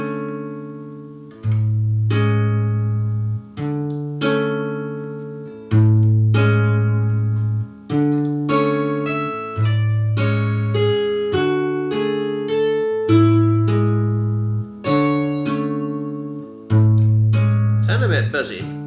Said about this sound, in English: Sound a bit buzzy, this guitar.